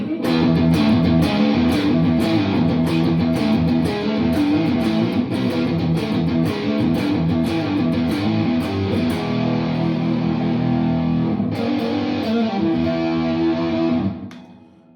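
Heavily distorted electric guitar, a Stratocaster with a Seymour Duncan Twang Banger bridge pickup in fourth position, playing a sustained, dense riff, loud and continuous, cutting off abruptly near the end.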